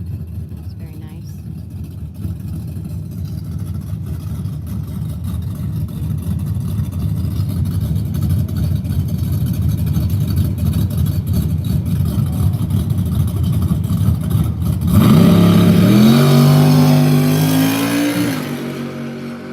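At Rocket City Dragway in Huntsville, Alabama, a drag racing car roars with a steady engine rumble that builds, then surges into a loud rising rev as it launches, with people talking nearby.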